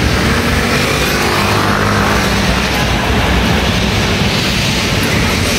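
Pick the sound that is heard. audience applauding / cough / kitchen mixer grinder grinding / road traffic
road traffic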